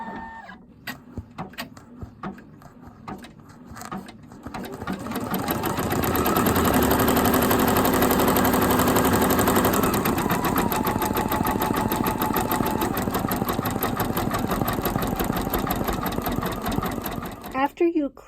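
Several light clicks and taps lead into a sewing machine embroidering a design on a hoodie, a loud, dense, fast-rhythm whir that runs steadily for over ten seconds up close.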